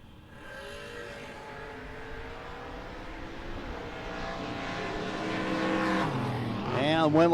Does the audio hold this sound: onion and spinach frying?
no